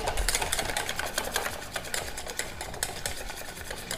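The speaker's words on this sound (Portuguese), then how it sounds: "E vou misturar essas ervas também" Fresh chopped herbs (chives, parsley, marjoram, basil) being stirred into salty tapioca batter, a brisk rhythmic scraping and clicking of utensil against bowl, close and steady throughout.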